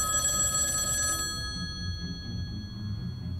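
An old-style telephone bell rings in the video game Lucius, a bright metallic trill that cuts off after about a second, leaving low background hum.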